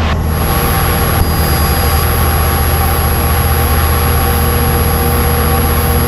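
A light training aircraft's engine roaring at full throttle for takeoff, a loud, steady, droning rumble heard from inside the cabin that fills the whole stretch without letting up.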